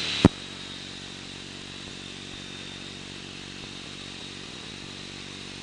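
Ultralight aircraft engine droning steadily through a touch-and-go training circuit, a continuous mid-pitched hum with a sharp click near the start, heard from inside the cockpit.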